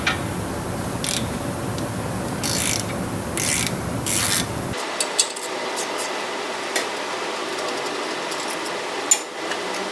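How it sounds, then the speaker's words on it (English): A 21mm ratchet works the caliper bolts on a 2021 Tesla Model S Plaid during a brake change, giving close, loud rubbing and clicking that drops off abruptly partway through, followed by sparse faint clicks. "grab a 21mm ratchet and take out these two 21mm bolts on the top and the bottom of the caliper"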